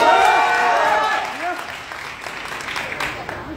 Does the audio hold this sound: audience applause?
yes